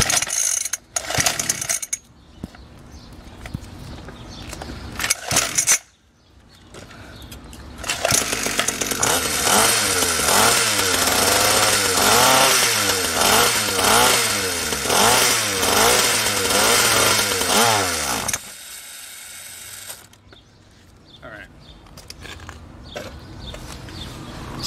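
A small SYXmoto motorbike engine running on a bad fuel mix, starting after a couple of short attempts, then running loud and buzzy with wavering revs for about ten seconds before cutting out.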